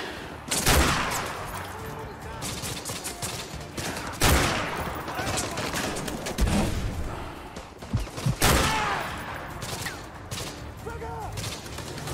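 Gunfire in Call of Duty: Modern Warfare 2 Remastered, sharp single shots and scattered automatic bursts near and farther off, irregular volleys with quieter gaps between them.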